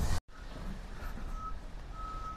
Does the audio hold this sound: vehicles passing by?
yes